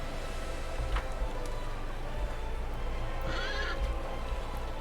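A horse whinnies from a short distance in the fantasy video game Pathfinder: Wrath of the Righteous, a brief high call heard over constant background ambience and music.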